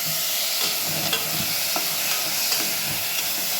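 Onions and other soup ingredients stirred in a dry pan over a low flame with no oil, a steady close scraping and stirring with soft sizzling, no one talking.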